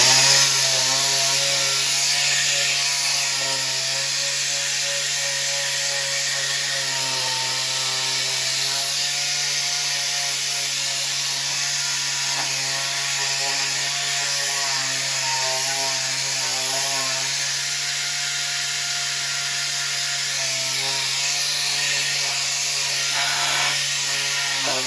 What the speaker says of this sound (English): I just have an 80 grit piece of sandpaper